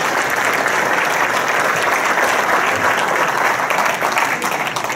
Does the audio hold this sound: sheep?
no